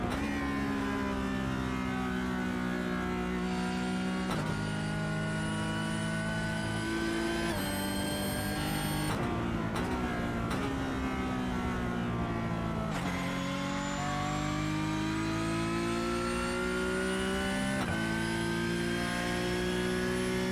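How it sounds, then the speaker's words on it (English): Porsche 911 GT3 Cup 992 racing car's flat-six engine screaming in an esports sim race, a loud, continuous high-revving wail rising through the gears with sharp drops at each upshift and brief lifts under braking. "Sound of the inline 6 screaming"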